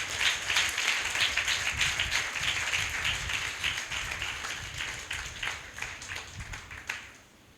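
A church congregation claps along in a steady, fairly quick rhythm during a sermon, many hands together filling the room at moderate loudness, the pattern easing slightly toward the close.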